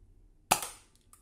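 A Nerf N-Strike Nanofire toy blaster fires a dart indoors toward a whiteboard: one sharp, snappy pop with a short hissing decay, followed by a faint click or two, near and otherwise quiet.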